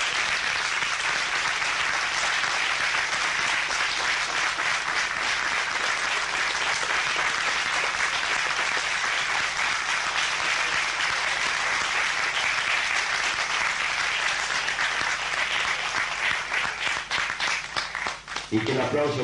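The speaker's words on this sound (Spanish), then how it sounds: "creo que el aplauso tiene que ser mucho más fuerte" Sustained, dense applause from a theater audience at a tango tribute honoring Sebastián Piana, steady and loud throughout before thinning out near the end.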